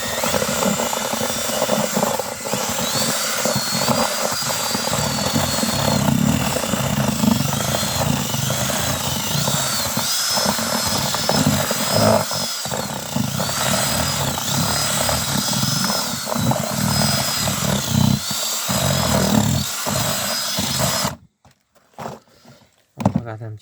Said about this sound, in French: On va malaxer donc avec le malaxeur monté sur perceuse.